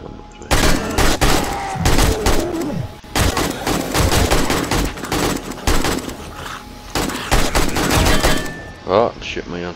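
Automatic turret fire in 7 Days to Die on horde night, dense rapid bursts of gunshots crackling almost nonstop for several seconds, loud and close, with brief gaps between volleys.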